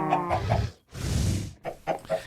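Chickens clucking in the Minecraft-style modpack Sky Factory, a few short, close bursts of clucks separated by a brief rustling noise, with no talk.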